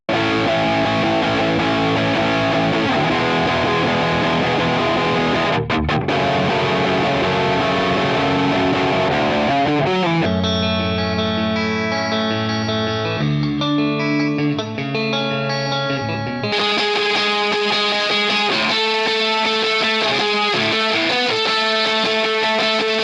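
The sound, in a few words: guitar amp effects plugin demo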